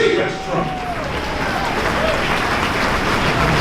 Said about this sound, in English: Y'all better start clapping.